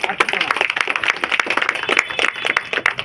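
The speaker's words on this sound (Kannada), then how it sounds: "ಅವರಿಗೆ ನಮ್ಮ ಕಡೆಯಿಂದ ಒಂದು ತುಂಬು ಹೃದಯದ ಜೋರಾದ ಚಪ್ಪಾಳೆಯನ್ನ ನಾವು" Audience applause at a community service award ceremony in Bengaluru, steady clapping from a crowd through the whole stretch, fairly close and even in rhythm.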